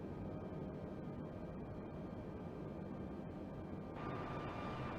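Steady broadband roar of an Airbus A320 cabin during a right banking turn after departing Chennai, a constant engine and airflow drone with a faint tonal hum that lifts slightly near the end.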